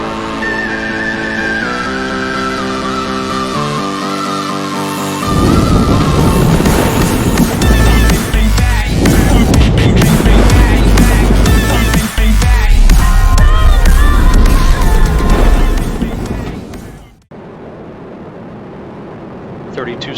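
Space Shuttle Discovery's three liquid-fuel main engines roar during launch, a loud, dense, sustained rumble that builds, holds for about twelve seconds, then cuts off sharply, with a commentator's voice heard over it.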